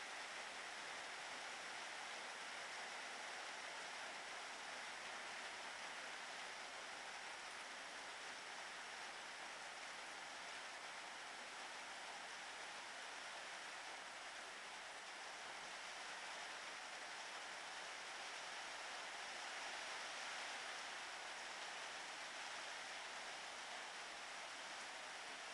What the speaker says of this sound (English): here it is raining in the mountains up at Candace's house.